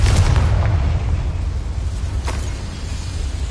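A Confringo explosion spell in Hogwarts Legacy lands as a loud, deep boom with a rumbling tail that fades slowly over several seconds, close and without speech.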